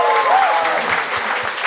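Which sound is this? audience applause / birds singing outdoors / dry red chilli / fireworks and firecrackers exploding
audience applause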